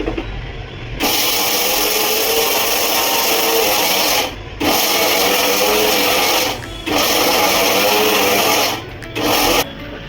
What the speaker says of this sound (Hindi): हम बाकी का पोर्शन भी डाल के ना इसे ग्राइंड कर लेंगे